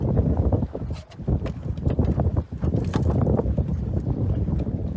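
Steady wind rushing past a sailboat under way, a loud, continuous buffeting roar with water wash, dipping briefly twice before surging again; no talking.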